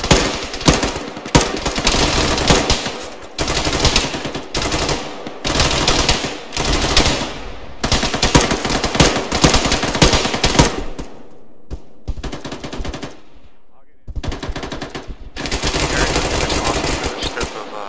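Heavy machine gun fire in a tactical military video game, long sustained bursts of rapid loud shots with brief pauses between volleys, dense and close throughout.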